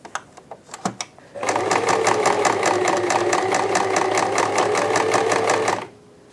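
A sewing machine running a long basting stitch for a blind hem, a few handling clicks first, then a steady fast rhythmic whirring chatter for about four seconds, close and loud, before stopping.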